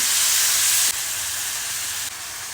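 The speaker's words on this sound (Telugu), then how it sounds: "ఇప్పుడు కోసి పెట్టుకున్న టమాటాలు వేసేసి అవి కూడా మంచిగా వేయించుకోవాలి" Chopped tomatoes and marinated shrimp fry in a kadai with a loud, steady sizzle and hiss that dips slightly twice but continues throughout, with no talking.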